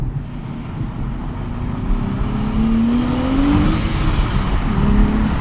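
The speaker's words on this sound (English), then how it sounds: "That was just all wheel spin." A 2025 Nissan Z with a twin-turbo V6 and six-speed manual launching hard with wheel spin, the engine roaring loud and steady with a rising tone throughout, no voices.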